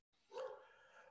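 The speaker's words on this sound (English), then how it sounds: "you might hear my dogs barking in the background." Dogs barking indoors somewhere nearby, a single short bark burst that trails off, heard on its own with no talk over it.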